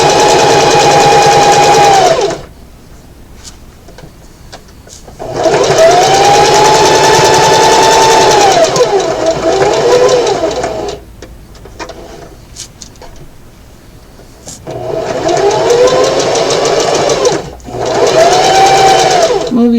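A sewing machine running a straight stitch through fabric, loud close motor whirring in three long bursts separated by quiet pauses, with a voice talking during the gaps.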